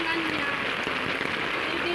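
Floodwater roars strongly and steadily throughout, a dense, hissing wash of sound filling the whole clip, in a flooded residential area in Meycauayan, Bulacan.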